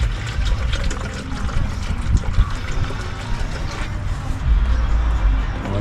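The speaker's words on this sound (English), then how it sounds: "Fill it up with water" Water poured into the coolant reservoir of a 2002 Honda Civic during a radiator and thermostat change, a steady close splashing trickle with a heavier gush near the end.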